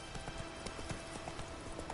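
Rapid clip-clop of the horse Roach galloping in The Witcher III, a quick even hoofbeat rhythm that stays fairly quiet and steady throughout.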